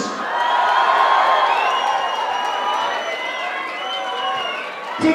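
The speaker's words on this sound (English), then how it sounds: "cheer for the boxers" Crowd at a white collar boxing fight night in Glasgow cheers and applauds the boxers, a continuous loud roar with whoops and shouts rising and dipping across the whole stretch.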